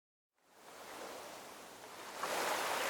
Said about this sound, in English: The air was filled with the sound of crashing surf